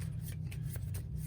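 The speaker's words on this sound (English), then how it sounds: "shuffling these up and then start playing the game." A deck of game cards is shuffled in a dense, continuous riffling rustle with crisp flicks, close and fairly loud, over a steady low background hum.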